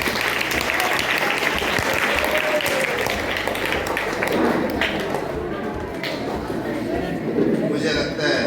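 School audience applauding in a hall during a film screening workshop, a thick continuous patter of many hands clapping, with a voice briefly heard under it.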